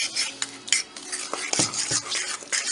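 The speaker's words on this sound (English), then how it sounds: "just stirring this extra flour in" Sourdough pancake batter made with rice flour starter gets extra flour stirred in, a close scraping and clinking of a utensil against the bowl repeating in short irregular strokes, with no talk.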